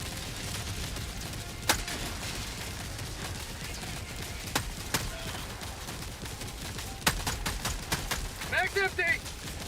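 Rapid bursts of gunfire from weapons in the video game Helldivers 2, sharp shots in scattered clusters mixed with other game effects, with people talking over them.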